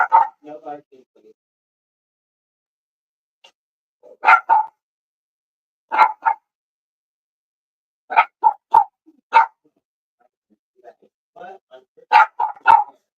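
A dog barks in short, sharp bursts, several volleys spaced apart with quiet gaps between them, close by and loud; a person briefly speaks once.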